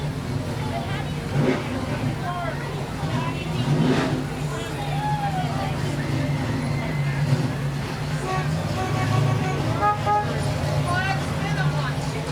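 Classic Nash and AMC cars built in Kenosha roll along in a street parade, engines droning steadily beneath crowd chatter, with occasional horn toots and revs carrying over the bustle throughout.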